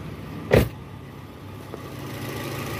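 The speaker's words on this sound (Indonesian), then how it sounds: "Suara mesinnya udah halus guys" A car engine idles smoothly after a water pump bearing repair, producing a steady, even hum with one brief louder thump near the start.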